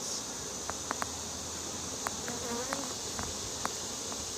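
Honey bees buzz in a dense, steady drone during a beehive inspection, with a few individual bees flying close by and brief sharp ticks.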